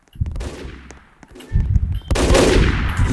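Rapid gunfire in a school shooting video game, with a short burst followed by louder sustained automatic fire close and dense, continuing to the end.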